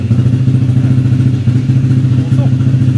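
A Yamaha Fino scooter fitted with a KOSO DOHC 220cc engine running loud and close, a steady low throbbing idle with a slight rev, a voice briefly heard over it.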